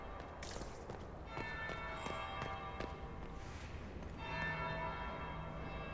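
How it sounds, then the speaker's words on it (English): A bell rings faintly in a video game, a sustained, ringing metallic tone with lingering overtones over quiet ambient background and soft footstep-like taps. "That's the bell."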